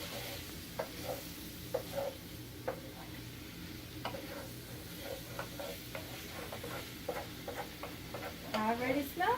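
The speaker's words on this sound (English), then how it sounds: "And just stir it." Tofu fries in a pan with a soft sizzle while a utensil taps and scrapes in a loose repeated rhythm, faint and close, with a brief voice at the very end.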